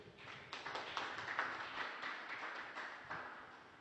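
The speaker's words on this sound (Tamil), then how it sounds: "அவருக்கு மறுபடியும் ஒரு கரகோஷத்தை கொடுக்கும்படி கேட்டுக்கிறேன்" A faint, continuous patter of audience applause rises and falls at an astrology talk, heard distant and soft throughout.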